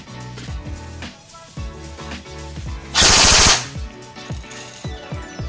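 Full-auto bursts from a Taran Tactical John Wick TTI airsoft AEG in MR spec, a loud continuous rapid rattle near 3 seconds over a busy background of repeated mechanical clicks and thumps.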